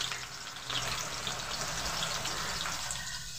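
Chopped onions frying in a generous amount of hot oil in a karahi, a steady, close sizzling hiss that holds evenly throughout with no talking.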